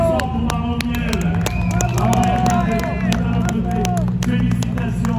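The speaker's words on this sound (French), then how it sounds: "Applaudissements pour Margot Miel." Crowd applauding for Margot Miel at a public event, loud close clapping mixed with cheering, whoops and chatter from the audience, with voices talking throughout.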